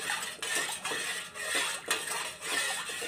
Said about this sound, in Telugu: ఇప్పుడు ఇది ఇలా స్టవ్ మీద పెట్టి బాగా కలుపుతూ ఉండాలి